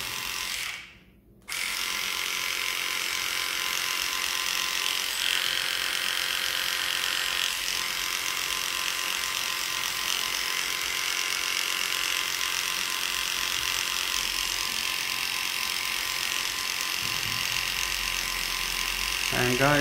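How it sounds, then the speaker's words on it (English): Electric dog clippers fitted with a 15 blade run in a steady, continuous buzz while shaving a Maltese, with a brief pause near the start and someone talking quietly at times. "we're going to shave around her anus with the 30 blade. I mean, no, this 15 blade"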